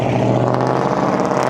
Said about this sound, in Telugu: బ్లాక్ మస్టాంగ్ మస్తు వచ్చింది సౌండ్ అయితే బ్లాక్ మస్టాంగ్ది